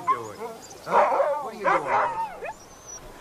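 Dogs yip and whimper in short excited bursts close by, while a person speaks briefly to them.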